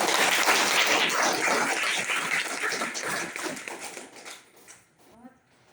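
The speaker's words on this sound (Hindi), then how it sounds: "एक बार अपने लिए जोरदार ताली।" Audience applause at a business gathering swells loud and dense, then thins and fades away over a few seconds, leaving a brief quiet tail with a hint of a voice.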